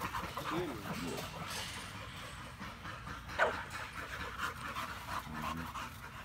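A dog pants rapidly and steadily at close range, fairly quiet, with faint background sounds that may include birds.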